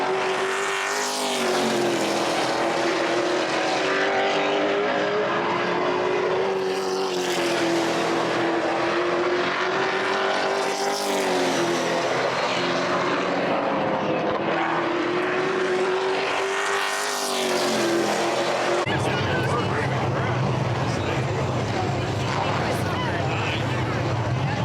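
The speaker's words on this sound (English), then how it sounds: "Let's go watch race cars." Engines roar past in waves, several cars sweeping by loudly with rising and falling pitch, then a denser, steady drone of traffic on the track.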